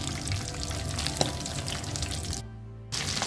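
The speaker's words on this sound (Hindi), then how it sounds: "इसी तरह हम दूसरे भी फ्राई कर लेते हैं" Cheese potato cutlets frying in hot oil, a steady broadband sizzle close by with a brief quieter dip near the end before the bubbling resumes.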